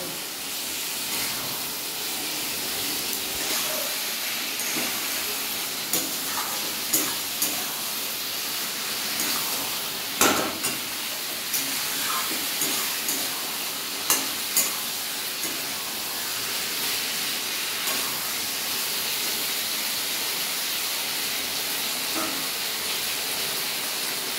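Potatoes and ivy gourds fry in a spice masala, giving a steady moderate sizzling hiss with a few scattered louder crackles and pops from stirring.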